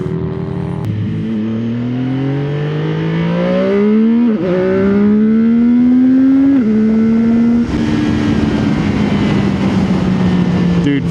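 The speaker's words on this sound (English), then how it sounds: "Dude, full throttle, this thing rips." A CFMOTO 675SS motorcycle accelerates hard at full throttle, its engine note climbing steeply through several gear changes, loud and close throughout, with no talking.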